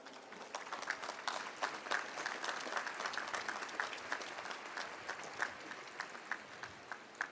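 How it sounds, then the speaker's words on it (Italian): A large outdoor crowd at a papal jubilee audience in the rain applauds, many holding umbrellas: dense, sustained clapping at moderate level, steady throughout with scattered sharper claps, no talk. "vi faccio la proposta di salutarli con un applauso"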